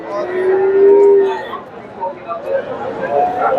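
Friesian cattle at a busy cattle market in Bogura: a long, loud moo rings out close by, followed by softer lowing and general market noise with people talking in the background.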